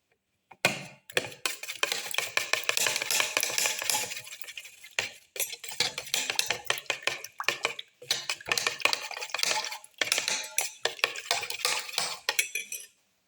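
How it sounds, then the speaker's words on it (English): Eggs whisked in a bowl with crushed tomato pieces until frothy, a busy run of rapid clinking and scraping strokes close by, with short pauses between bursts. "Mix until it's frothy."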